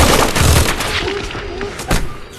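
Gunfire rings out during a zombie attack on a wedding reception in the horror film REC 3: a cluster of sharp, loud shots, then one more crack near the end, over movie background noise.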